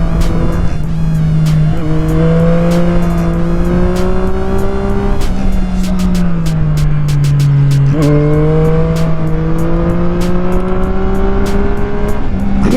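A Triumph Street Triple 660 S motorcycle fitted with an SC Project exhaust, heard loud and close as a riding engine note that rises through the revs, drops at gear changes, then climbs again, with no talk over it.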